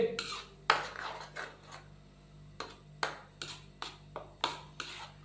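Onion mixture being stirred in oil in a pan for egg malai masala curry, heard as repeated scraping and rasping strokes of a spoon against the pan, close and fairly quiet, with brief pauses between strokes.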